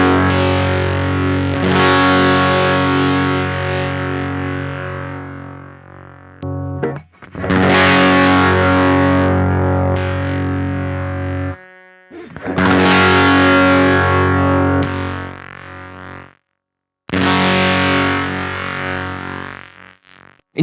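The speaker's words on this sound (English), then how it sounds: "we get a lot more clipping and sputtering of our signal because it's a more aggressive gate" Electric guitar through a Champion Leccy fuzz pedal plays chords that break into gated, sputtering fuzz, each phrase cutting off abruptly into silence, in four loud bursts with gaps between them.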